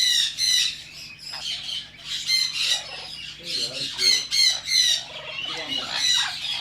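Exotic birds, macaws among them, squawk and screech loudly in a repeated, overlapping chorus of harsh calls close by, with no talk over them.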